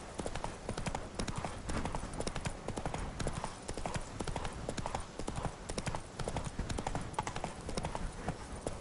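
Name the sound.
hooves of Geralt's horse Roach in the video game The Witcher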